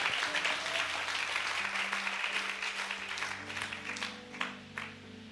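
A church congregation claps in sustained applause, a dense, steady patter of many hands with a few louder individual claps near the end, over low sustained organ or keyboard tones.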